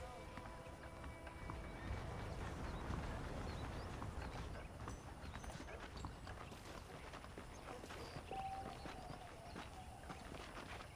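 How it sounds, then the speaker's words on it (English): Horse hooves in Red Dead Redemption clip-clop steadily at a walk over a dull background hum, with an occasional faint snort. "The horses are saddled up over here."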